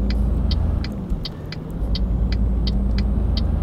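A car engine hums low and steady while driving in the video game Euro Truck Simulator 2, with a continuous rumble and a series of short, evenly spaced clicks above it, with no talking.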